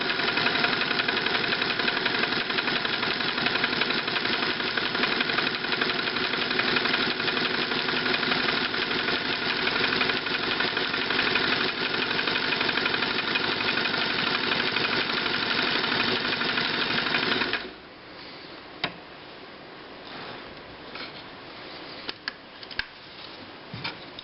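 A Singer 328K sewing machine stitches a scallop pattern with its cam running, a steady whirring mechanical drone that stops abruptly partway, followed by quiet handling noises and small clicks.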